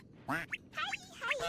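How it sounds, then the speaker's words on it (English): A few short nasal quacks in a Noita game stream, likely from a chat sound alert, heard as three or four quick quacks at low volume, fairly close and with no talk over them. "Why are so many guys quacking?"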